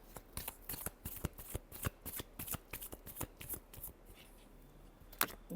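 Tarot cards shuffled by hand in a steady run of crisp riffling bursts, close and fairly quiet, with no talking over them.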